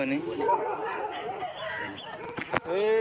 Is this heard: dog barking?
yes